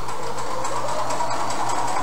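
A sewing machine runs steadily through slippery fabric, a constant close motor hum with a fast, even stitching pulse and no pauses.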